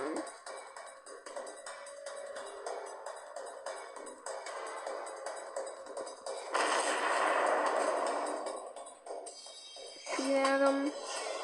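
Naval gunfire from warships in the video game World of Warships Blitz comes as repeated booming shots. A long, dense burst of explosions follows, and one more blast lands near the end.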